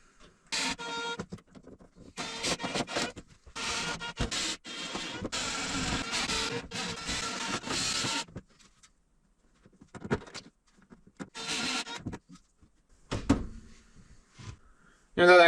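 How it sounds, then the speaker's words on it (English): A power drill driving screws into a kitchen cabinet inside an old log cabin under renovation, several whirring bursts of a few seconds each separated by quiet pauses, close and fairly loud. "Put a couple of screws down,"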